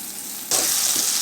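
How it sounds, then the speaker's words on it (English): Two tablespoons of butter hit a skillet over medium-low heat and burst into a sudden, steady sizzle after a quiet moment, close and continuous, with a small pop partway through. "add in our 2 tablespoons of butter right in there and let that start melting"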